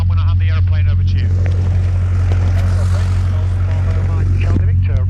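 Light propeller aircraft taxiing at Netherthorpe Airfield, its engine a loud steady drone with a strong low hum throughout, while a voice talks over it in the cabin.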